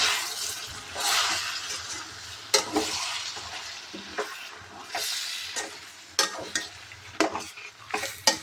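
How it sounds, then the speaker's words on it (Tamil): Squid sautéing in a pan gets stirred, with a sizzling hiss that swells and fades as a spoon scrapes through it in repeated, irregular strokes, several of them sharp and close. "இப்போ நம்ம இந்த கணவாயெல்லாம் இதில் போட்டு கொஞ்சம் வதக்கி விட போகிறோங்க"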